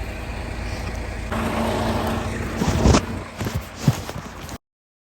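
A truck's engine runs at a low steady rumble while stuck on winter ice and snow, swelling louder midway with a few sharp knocks and clunks before cutting off abruptly.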